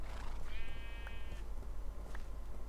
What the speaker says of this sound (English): Sheep, you're bad.